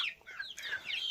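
A golden hen in a Chhattisgarh village clucks softly in a short burst of quiet, chattering calls, heard on its own at low level.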